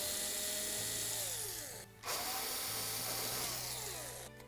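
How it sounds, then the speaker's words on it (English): Cordless power drill whirring steadily as it backs retaining screws out of the rear panel of a Samsung smooth-top electric range, with pitch sweeps as the motor speeds and slows, one brief pause midway, close and loud. "To remove it, we'll simply start by removing those retaining screws."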